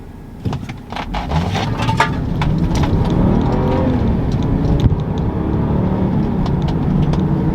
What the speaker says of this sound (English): The car revs. It's revving out the car though.